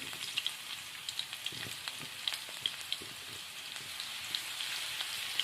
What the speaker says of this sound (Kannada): ಇದಕ್ಕಂದ್ರೆ ಕೆಂಪಗಾಗಿ ಎಣ್ಣೆಗ ಫ್ರೈ ಮಾಡ್ಕೊತೀನಿ ರೀ. ಕೆಂಪಗಾಗಬೇಕು ರೀ ಬೆಳ್ಳುಳ್ಳಿ.